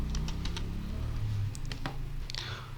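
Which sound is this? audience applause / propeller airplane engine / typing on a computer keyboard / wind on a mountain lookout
typing on a computer keyboard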